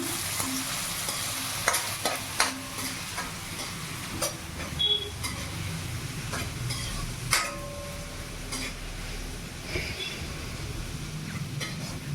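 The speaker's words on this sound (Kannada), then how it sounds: "ಮೀಡಿಯಮ್ ಫ್ಲೇಮಲ್ಲೇ ಇಟ್ಕೊಳ್ಳಿ ಇದು ರೋಸ್ಟ್ ಮಾಡ್ಕೊಳ್ಳೋಣ" Onions roasting over a medium flame for dhaba-style shahi paneer, a steady sizzle with repeated sharp scrapes and clinks of a spatula stirring against the pan, fairly close, no voices.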